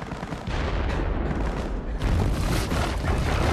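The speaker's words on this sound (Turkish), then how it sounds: "Çıkmayın, top ateşi var." Heavy, continuous booming and rumbling of distant artillery fire in a Gallipoli battle film scene, a dense roar of blasts that swells louder partway through.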